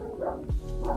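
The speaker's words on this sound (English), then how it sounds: "sorry about my dog in the background." A dog barks in the background inside a home, one or two short muffled woofs heard at moderate distance, with no speech over them.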